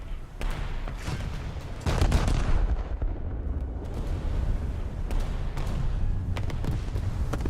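Battleship salvo fire in World of Warships, a series of deep booming gun blasts and rumbling explosions, loud and close, with repeated sharp reports scattered over several seconds amid a constant battle roar.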